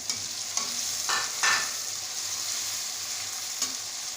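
Green chilies frying with softened tomato and onion, stirred in a pan: a continuous close sizzle with a few scraping stir strokes, no talk.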